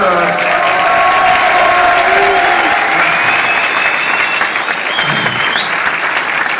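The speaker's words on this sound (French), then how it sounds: "On l'applaudit bien fort" Loud, sustained applause with some cheering from a comedy show audience, a dense wash of clapping that holds steady, with a few voices and whoops rising over it.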